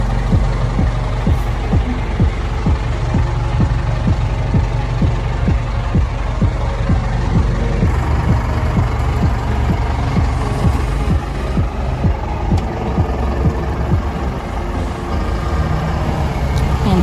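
A Clayton Gallant boat's engine runs loud and close with a throbbing low rumble and irregular knocks, continuing steadily throughout, with a brief shift in tone midway.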